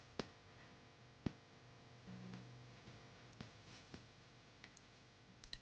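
Mustard seeds spluttering in hot sesame oil, a quiet pan giving off sparse, irregular sharp pops and clicks over a low background hum.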